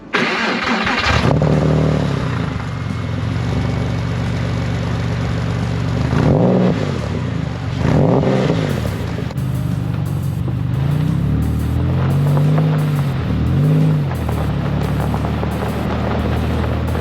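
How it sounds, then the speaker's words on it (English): A Porsche 911 is cold-started on a morning drive: the starter cranks and the engine catches, then idles loudly and unevenly with several blips of revving, close by and alone. "so we'll get a good cold start."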